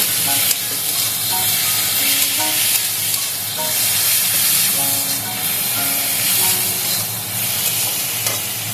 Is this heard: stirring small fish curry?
yes